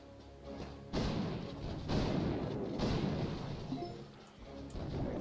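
Video game cannons booming in a boss fight, a series of heavy thudding blasts roughly once a second over a dense rumbling battle din.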